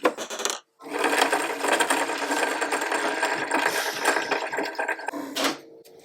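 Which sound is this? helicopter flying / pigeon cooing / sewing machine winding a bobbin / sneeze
sewing machine winding a bobbin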